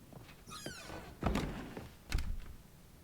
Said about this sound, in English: Did both of those doors just close behind me?